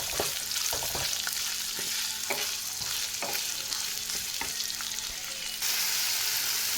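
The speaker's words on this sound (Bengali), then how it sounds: "এটাকে সুন্দর করে কষিয়ে নিচ্ছি" Spiced masala with tomato, cumin, turmeric and chili powder frying in a pan for a coconut and pea ghugni, with a steady crackling sizzle and repeated scraping strokes of stirring, close and alone.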